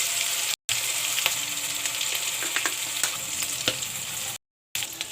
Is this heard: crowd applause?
no